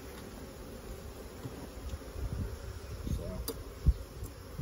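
Honey bees hum steadily around an open single brood chamber hive in late August, a continuous close buzz with a few soft knocks and bumps and a brief spoken word.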